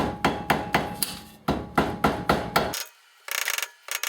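A screwdriver is tapped between a car's front wheel hub and its cap during a 2005–2014 Ford Mustang hub and bearing job, giving sharp metallic knocks in a quick, fairly regular series, close and loud, then a brief pause and a scrape.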